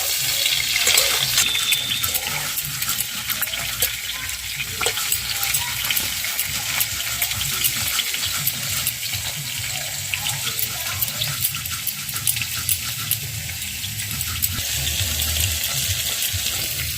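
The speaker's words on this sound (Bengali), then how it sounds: "এদিকে পটলটা ভালো করে ভেজে নেব।" Pieces of pointed gourd (potol) fry in hot oil with a continuous, hissing sizzle that stays loud and fairly even throughout, close by, with no talking.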